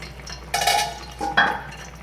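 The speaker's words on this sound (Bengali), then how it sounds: "মিনিট 5 পর আমি ঢাকনাটা খুলছি।" A metal lid is lifted off a pot of light bata fish curry with ridge gourd and pumpkin, making two close, ringing clanks against the rim.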